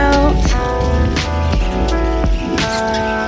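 Steady rain falls during a family trip in Cancun, a loud continuous patter of drops hitting surfaces up close, with intermittent sharper splats and tonal sounds woven through.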